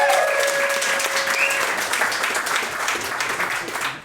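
A stand-up comedy audience applauds a comedian taking the stage, a dense, steady wash of clapping with some crowd noise that fades slightly toward the end.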